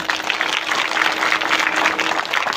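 An audience at a Shivjayanti kirtan and Haripath gathering claps loudly and steadily, a dense wash of many hands that stays strong and even throughout.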